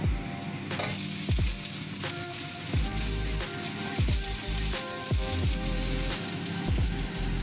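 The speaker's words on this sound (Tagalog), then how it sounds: "Huunin ko po muna siya dahil lulutuin ko yung aking French beans." French beans fry in a hot pan for a butter vegetable dish, giving a steady close sizzle with repeated scraping and stirring knocks throughout.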